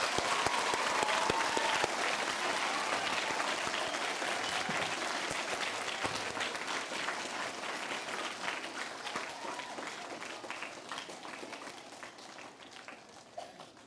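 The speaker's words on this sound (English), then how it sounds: "Let's have everybody clap that thinks Miss Sanders is a special teacher." An elementary school audience claps for a teacher, starting as loud dense applause with a brief cheer near the start, then thinning gradually into scattered individual claps as it winds down.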